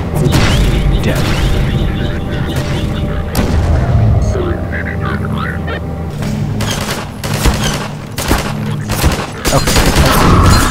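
Heavy gunfire and booming explosions rage in Half-Life 2 Episode One, loud and chaotic with repeated sharp bursts and a voice talking over the combat.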